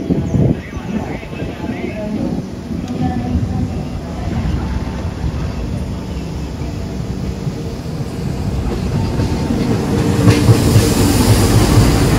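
Rumbling and low mechanical noise aboard the Kamandaka executive passenger train stopped at Kroya station, a steady hum with occasional clanks that swells louder toward the end, with voices murmuring in the background.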